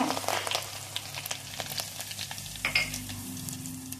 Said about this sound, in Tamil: கடுகு நல்லா பொரிஞ்சதும் கருவேப்பிலை போட்டுருங்க